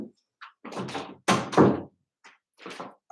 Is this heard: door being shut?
yes